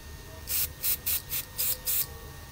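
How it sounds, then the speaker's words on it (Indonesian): Six short, crisp aerosol bursts of lubricant onto a Tamiya Mini 4WD Atomic-Tuned 2 motor during break-in, hissing in a fairly even rhythm up close against a quiet background. "Kita semprot lagi."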